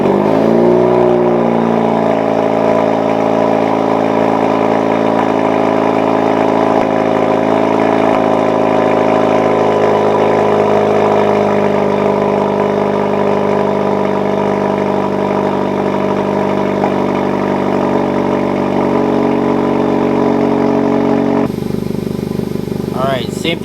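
A 2017-or-later Honda Civic Si with a catless PRL exhaust cold-starts and settles into a loud, steady, raspy idle that holds for over twenty seconds before cutting off abruptly.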